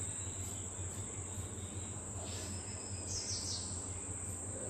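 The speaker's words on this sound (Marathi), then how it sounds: "चिमणीचा आवाज" Small birds, sparrows among them, chirp in scattered bursts over a steady insect drone and low hum in quiet rural Konkan surroundings near Rajapur, Ratnagiri, faint and some distance away.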